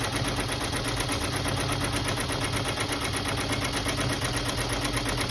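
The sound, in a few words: embroidery sewing machine sewing a sew down stitch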